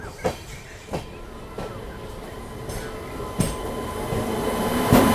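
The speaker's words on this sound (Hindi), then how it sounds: "अभी अपनी क्रॉसिंग होने वाली है गोरखपुर आनंद विहार टर्मिनल हम सफ़र एक्सप्रेस के साथ" Gorakhpur–Anand Vihar Terminal Humsafar Express, train 12595, passing at a crossing on an Indian line: loud, close rumble of coaches with rhythmic wheel clacks at irregular intervals and faint squealing, building toward the end.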